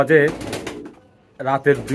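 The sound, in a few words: Spanish pouter pigeon cooing at night, puffing its throat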